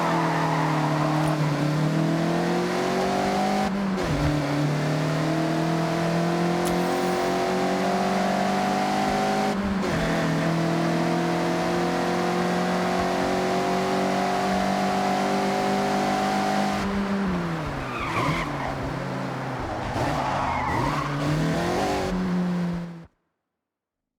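A Mazda MX-5 drifts in Forza Horizon 6, its engine holding a loud sustained drone with small shifts in pitch while tire squeal joins in near the end before it cuts to silence.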